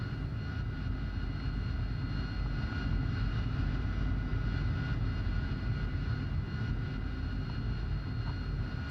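A propeller aircraft engine drones steadily in a flight simulator game, a continuous low rumbling hum at even volume with no talk.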